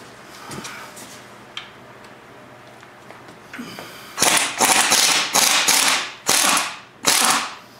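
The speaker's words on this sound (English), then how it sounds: "Let's pull this bolt out of here." Ratchet working a motor mount bolt loose on a Bronco II, a few quiet early clicks, then five loud, close bursts of rapid ratcheting separated by short pauses.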